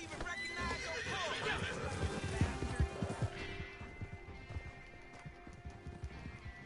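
Horse hooves gallop in Red Dead Online, a loud rapid clip-clop with whinnies and neighs mixed in, running steadily across the whole stretch under a dense game soundscape.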